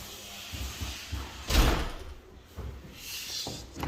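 A back door, apparently sliding, opens and closes in a house under renovation, giving a heavy thudding rattle midway between softer knocks and shuffles.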